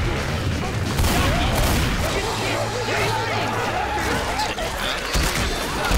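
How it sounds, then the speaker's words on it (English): Gunfire in the zombie shooter Left 4 Dead 2, a sniper rifle among other weapons, as sharp, loud bursts and thuds over a busy game soundscape with players talking. "I love this sniper rifle."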